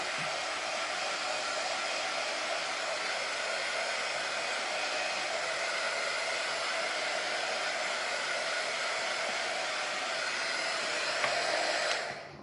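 A hair dryer blows steadily and loudly on a fresh coat of paint on a camper, a constant broadband whoosh that runs alone for about twelve seconds before cutting off at the end.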